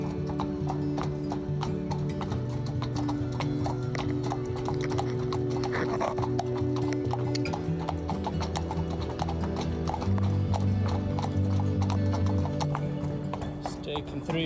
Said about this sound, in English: Just taking 3 horses across the Colorado River.